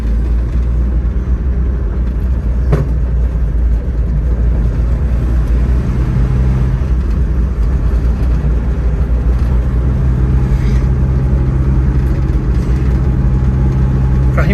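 A Ford Corcel in third gear pulls through a run of low curves, its engine humming loud and steady inside the cabin with road rumble underneath and a faint voice at times.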